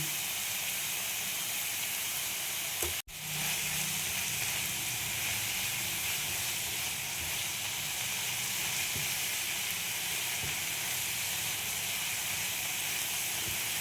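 Cabbage sizzles and hisses steadily in a hot frying pan, close and continuous, with a brief sharp clatter near the start.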